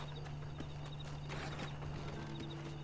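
Rhythmic horse hooves clop at a steady trot in Red Dead Redemption, faint and continuous beneath a low ambient hum.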